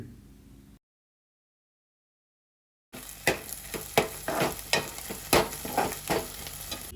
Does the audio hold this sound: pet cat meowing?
no